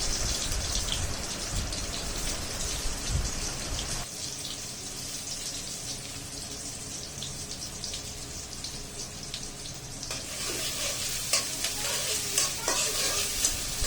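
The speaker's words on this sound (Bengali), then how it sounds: "এখন খুব ভালোভাবে পেঁয়াজগুলোকে কষিয়ে নিতে হবে, লালচে না হওয়া পর্যন্ত পেঁয়াজগুলোকে নাড়তে চাড়তে হবে বারেবার" Chopped onions fry in mustard oil in a kadai, giving a loud continuous sizzle with bright crackling spatter and repeated scraping stirs; the hiss thins for a few seconds midway, then swells again, with no voices.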